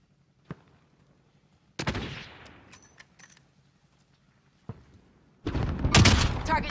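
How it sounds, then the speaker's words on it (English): Assault rifle gunfire in a video game: a single sharp crack, then a burst with a decaying tail, another lone shot, and finally a loud sustained volley, all close and with no talking. "An assault rifle."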